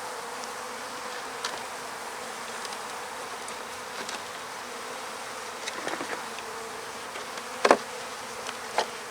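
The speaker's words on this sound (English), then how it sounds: "So get the bees off it" Honey bees buzzing around hive frames during hive work, a steady hum of many insects close by with occasional louder individual bees passing near, no talking.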